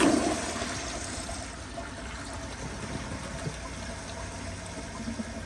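A 2012 American Standard Yorkville toilet flushes nearby, with a steady rush and churn of water that holds evenly for several seconds and is heard alone.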